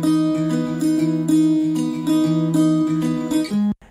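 Acoustic guitar with boosted low-mid warmth playing a mellow pop part, steady sustained chords ringing alone before a sudden stop near the end.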